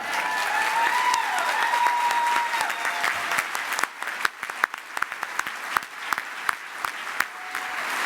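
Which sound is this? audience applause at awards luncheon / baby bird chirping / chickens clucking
audience applause at awards luncheon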